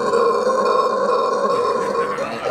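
Loud, close howler monkey call in Aruba: a drawn-out hoarse, burp-like roar that stays steady, then eases off slightly near the end, with no voices over it.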